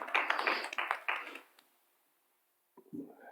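Scattered applause from a small audience at a Cabrillo Unified School District board meeting, a few loose claps that fade into silence before a voice resumes.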